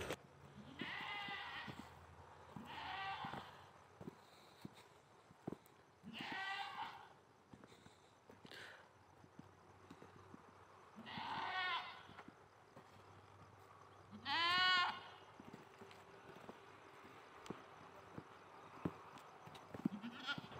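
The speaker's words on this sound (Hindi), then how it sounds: "ये बकरी है।" Goat bleats beside a village path, coming in several separate calls spread over the stretch, faint and somewhat distant against a quiet background with occasional soft knocks.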